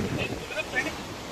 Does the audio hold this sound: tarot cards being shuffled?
no